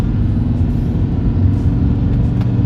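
A Mercedes 190 turbo diesel car driving and gaining speed makes a loud, continuous, close engine rumble with deep low-end roar, steady throughout.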